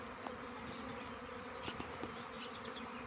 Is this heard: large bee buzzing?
yes